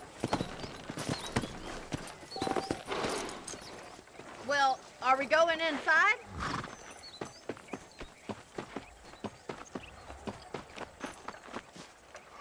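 A horse's hooves clip-clop at a walking pace in the Red Dead Redemption game, a close, rhythmic clatter that runs throughout. The horse snorts and whinnies briefly midway, and a voice speaks at one point.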